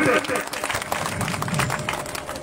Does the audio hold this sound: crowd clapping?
yes